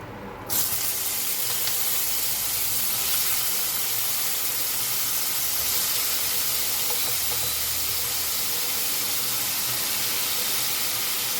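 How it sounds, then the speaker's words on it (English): Chickpeas sautéing in a pan for a loaded chickpea salad give a steady, close hiss like steam or spray that starts abruptly and runs unbroken, fairly loud, with no voices. "So I am sautéing my chickpeas."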